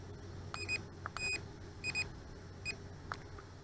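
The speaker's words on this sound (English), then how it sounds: "the remote control was the one that was giving out the video record" Several short electronic beeps from a drone remote control sound in quick pairs and singles, fairly faint over a low steady hum, with a few soft clicks between.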